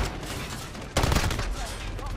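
Gunfire in Call of Duty Modern Warfare during a Hardpoint match, a dense burst of rapid automatic shots that erupts suddenly after a quieter stretch of game noise and continues loudly to the end.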